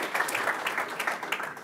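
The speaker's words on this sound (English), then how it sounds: "perhaps a round of applause for that" A short burst of scattered clapping from a modest audience at a GRESB survey session, distinct individual claps at moderate volume with no voices over them.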